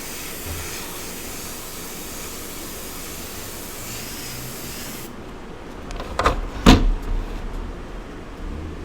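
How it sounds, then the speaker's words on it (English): For about five seconds an airbrush loaded with carbon black sprays as a steady, soft airy hiss at close range. It then cuts off, and a few brief louder knocks and rustles follow. "And I just have carbon black in my airbrush."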